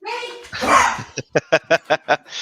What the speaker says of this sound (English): my dog's having a meltdown